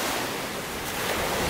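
Ocean waves roll in at Little Corona Beach on a sunny day, a steady loud wash of surf with wind noise on the microphone and no talking.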